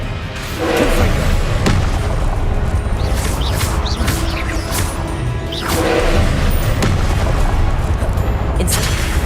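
Confringo blasting curses and other spells cast in Hogwarts Legacy, sharp crashing blasts and booms striking in quick bursts over continuous battle noise.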